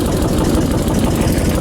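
A vehicle engine idles steadily and fairly loud, with a low rumbling drone that holds even throughout while the throttle is worked, no voices over it.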